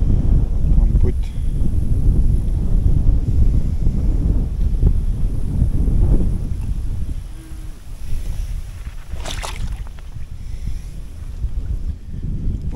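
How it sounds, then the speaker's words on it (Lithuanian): Strong wind by a river where people are fishing, roaring as heavy low rumbling buffets on the microphone that run through the whole stretch, with voices talking faintly underneath. "Labai didelis vėjas"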